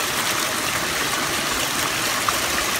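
Water leaking and trickling from a poorly built backyard pond with an exposed liner edge, heard as a steady, close wash of running water that stays fairly even throughout with no talking.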